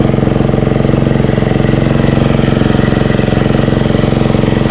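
A small water pump engine runs steadily at idle, a continuous low chugging drone with a fast, even pulse and no change in pace.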